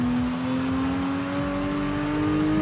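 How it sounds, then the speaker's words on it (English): Turbocharged car engine in Forza Horizon 5, heard from the cockpit, holding a steady loud drone with a rising high whine layered over it throughout, with no talk. "You can hear those turbos spooling up."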